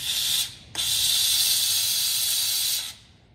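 Comforday multi-purpose surface steam cleaner blasting pressurized steam, a loud, close, steady hiss in two bursts, a short one and then a longer continuous one with a brief gap between them.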